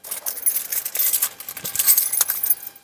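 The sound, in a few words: car keys jangling while put into ignition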